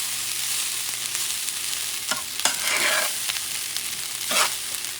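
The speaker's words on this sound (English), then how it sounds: "And I'm mixing everything nicely." Rice with pigeon peas (gandules) stirred in a frying pot, a soft steady sizzle broken by a few scraping strokes of the spoon, close and alone.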